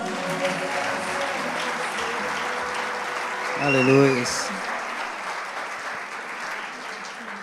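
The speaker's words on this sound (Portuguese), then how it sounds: "Vamos aplaudir?" A church congregation at a celebration service applauds continuously, a broad wash of many hands clapping, while a voice speaks and briefly sings over it mid-way.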